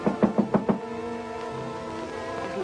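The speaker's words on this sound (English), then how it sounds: "suddenly there was a knock on the door" Several sharp knocks on a door in a 1947 film, about five quick raps in a cluster, loud and close, followed by a sustained musical tone with no voices.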